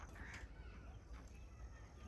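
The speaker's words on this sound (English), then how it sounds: "Birds going to their home after spending whole day searching her food" Crows cawing as birds fly home in the evening on an animal farm, a few brief calls rising over a steady low outdoor rumble, moderately distant and faint.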